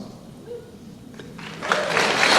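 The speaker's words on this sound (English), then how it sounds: "So you're applauding, but I should be applauding you." A convention audience at a Supernatural fan event in Vancouver breaks into applause after a brief quiet moment, and the clapping swells quickly into loud, dense applause.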